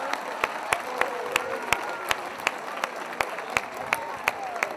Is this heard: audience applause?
yes